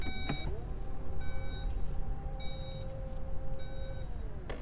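The power tailgate of a 2018 Porsche Panamera Turbo Sport Turismo hums steadily as its motor drives it shut, with repeated warning beeps chiming over the motor and a faint thump at the end.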